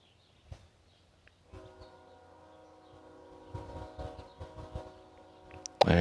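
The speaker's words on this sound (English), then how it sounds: "there is a train really close by" A train runs on tracks very close by, starting faint and building into a rumbling clatter with a sustained horn tone. The sound ends in a loud, sharp burst.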